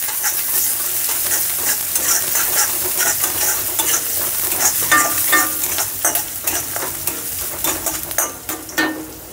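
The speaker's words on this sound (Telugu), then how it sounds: "ఒక మీడియం సైజు ఆనియన్ ఈ విధంగా చిన్నగా కట్ చేసుకునేసి వేసుకోవాలి. వేసేసుకొని వేపేసుకోవాలి." Chopped medium onion fries in a heavy iron pan with a steady close sizzle, overlaid by repeated scraping and clinking strokes of a stirring spoon that grow sharper toward the end.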